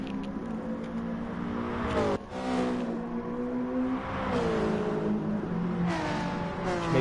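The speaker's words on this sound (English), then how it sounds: "Proper Tokyo drifting." A race car drifting on a Tokyo track in a touring car racing video game, its engine whining and shifting in pitch as it revs, near and steady, with a brief dip partway through.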